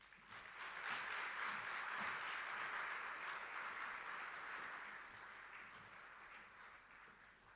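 A conference audience at a family business gathering applauds after a keynote, a broad, sustained wash of many clapping hands that swells early and then gradually tapers off, with no one speaking.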